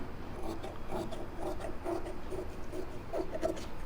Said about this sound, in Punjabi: ਇਹ ਫਾਲਤੂ ਕੱਪੜਾ ਆਪਾਂ ਕਟਿੰਗ ਕਰ ਲੈਣਾ ਹੈਗਾ